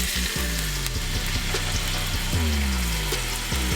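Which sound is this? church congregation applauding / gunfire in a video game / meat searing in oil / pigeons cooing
meat searing in oil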